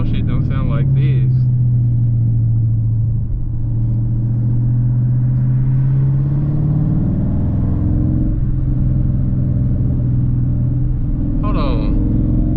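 Loud, steady engine rumble from a 2018 Dodge Charger R/T driving in track mode, a deep droning tone holding throughout with slight pitch drift. Brief voice sounds come near the start and end.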